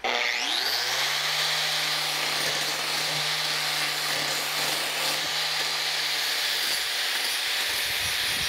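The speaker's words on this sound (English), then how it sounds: "an angle grinder and just put a little bit of a bevel in there, a little bit of a 45" An angle grinder bevels a steel edge to prepare it for a weld. The motor spins up, then holds a loud, steady whine while the disc grinds harshly against the metal, with no talking.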